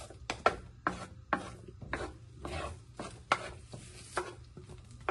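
Onion being chopped with a knife on a cutting board, a series of about a dozen sharp, irregular chops close up, with a low steady hum underneath and no talk.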